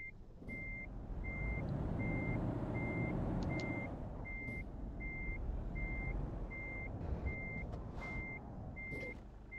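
Steady, evenly spaced reversing beeps from a heavy 43-ton truck hauling an extra-big trailer in Euro Truck Simulator 2, ringing out loud and regular over a continuous low diesel engine rumble, with no talking.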